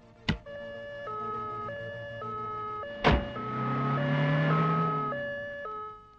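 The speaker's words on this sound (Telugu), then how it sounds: "ఏమిటి అంబులెన్స్ వెళ్తోంది?" An ambulance siren alternates between two tones in a steady hi-lo pattern as it passes, with two sharp whooshes of passing traffic.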